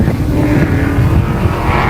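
A modified race car laps the third-mile paved oval at Wall Stadium Speedway during qualifying, its engine a loud, steady, continuous roar close by with no break.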